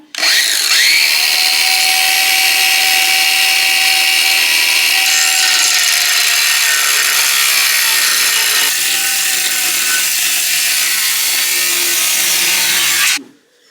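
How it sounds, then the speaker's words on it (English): A handheld grinder whines loudly and continuously on car parts in a garage during turbo kit work on a Mitsubishi Evolution 8, its pitch shifting slightly as it bites, running alone for about thirteen seconds before spinning down. "So, get your grinder out."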